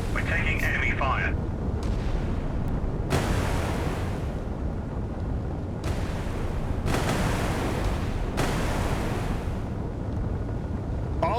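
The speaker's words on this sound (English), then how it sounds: "We're taking enemy fire." Naval shells strike a ship in the WWII naval combat game Sea Power, heard as several heavy booming impacts spaced a few seconds apart over a constant low rumble, loud and close.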